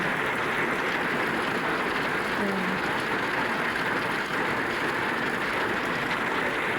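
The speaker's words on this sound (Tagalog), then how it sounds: "sobrang lakas ng ulan" Very heavy typhoon rain from Typhoon Ondoy pours down in a dense, constant hiss, loud and unbroken from start to finish with no pauses.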